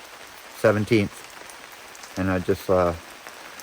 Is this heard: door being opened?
no